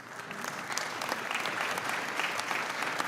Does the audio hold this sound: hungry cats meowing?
no